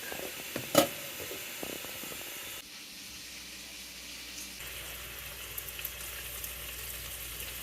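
Vegetable stock pours into a pot of rice, setting off a steady sizzle and bubbling hiss with a splashy clank near the start, continuing evenly at close range with no talking.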